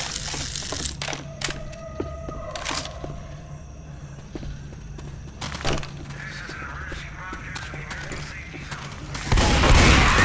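Gunfire in the zombie shooter Left 4 Dead 2, sharp cracks scattered across the scene amid game ambience and footsteps, with a louder burst of noise near the end.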